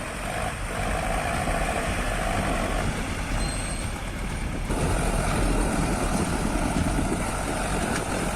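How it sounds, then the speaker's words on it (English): A heavy tractor engine strains and roars continuously with its wheels sunk deep in mud while dragging a timber load, a loud steady rumble with brief hissing bursts and no talk. "the wheels sank too deep into the mud, forcing the tractor to struggle"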